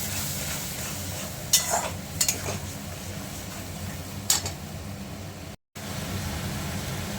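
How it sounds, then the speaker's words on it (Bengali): Lote fish fries with spices in a pan, a steady hissing sizzle broken by a few distinct scraping strokes of a stirring utensil, with a momentary dropout near the end and no speech. "মশলাটা দিয়ে নাড়াতে হবে"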